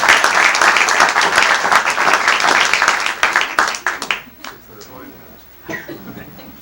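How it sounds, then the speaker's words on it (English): An audience in the Parlour of Prestidigitation at the Magic Castle gives a round of applause for a volunteer during a magic show. Dense clapping fills the first four seconds, then thins out and fades as a voice speaks. "Let's give Joan a round of applause"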